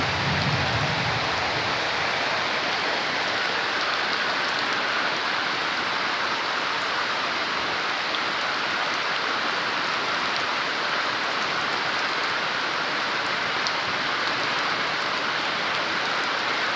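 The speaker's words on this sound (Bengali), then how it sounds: "বিকালবেলা বৃষ্টি নেমে গেছে" Afternoon rain pours over a village in a dense, unbroken hiss, steady and close throughout with no voices.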